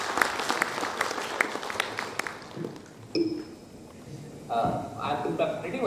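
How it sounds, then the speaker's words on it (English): A conference audience claps briefly, with scattered, distinct hand claps that fade within a few seconds. Speech and other room sounds follow the clapping. "Let's give a round of applause to Ajay sir."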